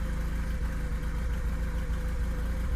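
A 2009 Honda Rebel 250 motorcycle engine idling, a steady close mid-low throb with light knocking texture, continuous and alone without talk.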